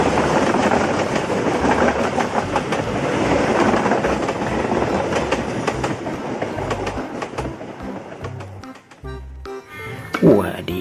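A train with economy-class carriages rolling past, a loud close rumble with steady rhythmic clickety-clack of wheels on rail joints that thins out near the end, with some talk underneath.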